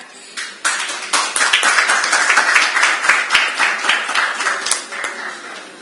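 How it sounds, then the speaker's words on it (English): Audience clapping in a conference hall at a health-scheme event in New Delhi, starting sparse, then swelling into dense, steady applause from a sizable crowd that holds strong to the end. "yes, a good clap."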